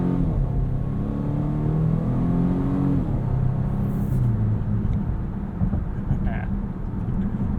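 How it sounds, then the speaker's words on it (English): The 4-cylinder engine of a 2021 Volvo V90 Cross Country T6 AWD drones steadily from inside the cabin while driving, its pitch rising and falling as it revs, a continuous low hum under road noise. "It doesn't sound bad for a 4-cylinder"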